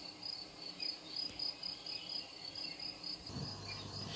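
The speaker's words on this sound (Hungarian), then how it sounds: "ha még jobban fülelek, akkor hallom a tücskök csilipelését is" Crickets chirp in a quick, steady pulsing trill, soft and continuous, with a low rumble entering near the end.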